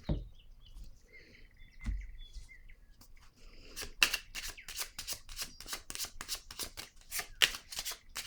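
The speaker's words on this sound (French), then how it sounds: "Je vais déposer une autre carte ici par curiosité" Tarot cards handled on a table, heard as a quick run of crisp, papery flicks and slaps that start after a quiet stretch and continue steadily to the end, close by.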